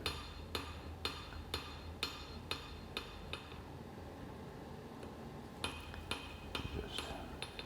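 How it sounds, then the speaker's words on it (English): A hammer forges the bevel and distal taper of a hand-forged hidden tang hunting knife, ringing metallic blows landing in a steady half-second rhythm, then a brief pause before another run of strikes. "I forge the bevel up to the spine and forge more distal taper in"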